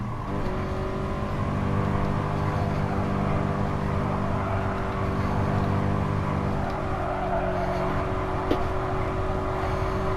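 A race car engine in GT Sport drones steadily at Fuji, a loud sustained high-revving note holding for the whole stretch with a small knock near the end.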